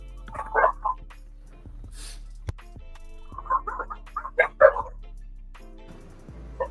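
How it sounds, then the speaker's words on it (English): A young dog barks in short scattered bursts, a few quick yaps, then a pause, then a livelier cluster of barks, fairly close but moderate in volume, with a faint low hum underneath and no speech. "Is his that your first dog?"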